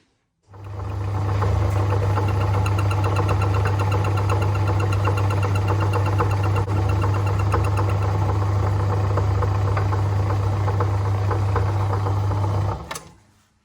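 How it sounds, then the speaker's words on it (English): A lathe runs steadily while facing off a cam held in 8mm bar, giving a loud, even motor hum with a low buzz that holds constant for about twelve seconds before spinning down. "I'll put it in the lathe, and then we'll face it off to suit"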